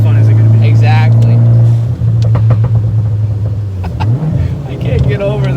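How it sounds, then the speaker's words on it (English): A Fiat 500 Abarth's engine drones loudly up close while its exhaust pops and crackles in quick bursts, with people talking over it. "I can't get over that crackle."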